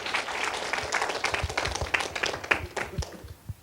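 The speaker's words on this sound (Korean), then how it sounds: "참부모님께 큰 박수를 참아버님께 올려드리겠습니다" An audience at a gathering claps for the honored parents. Individual hand claps stand out within a moderate, steady round of applause that carries on throughout.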